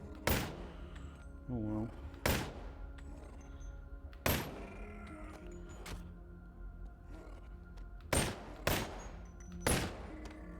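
Gunshots in the Boneworks VR video game: about seven sharp, loud single shots fired at irregular intervals, with quieter clunks and mechanical sounds between them and a brief spoken remark.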